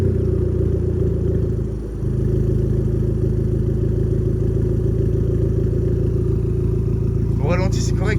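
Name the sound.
Abarth car engine idling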